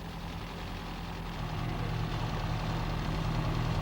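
A 1987 Citroën AX Sport with its 95 hp engine sits at idle, giving a low, steady, faint hum with no change in pace and no voices.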